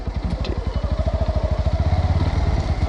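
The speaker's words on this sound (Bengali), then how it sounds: "সেকেন্ড গিয়ারে চেনটা আওয়াজ করছে" A motorcycle with a faulty chain runs in second gear on a hill road from Siliguri toward Kurseong and Darjeeling, giving a loud, close, fast rhythmic engine chug with a rattling clatter throughout.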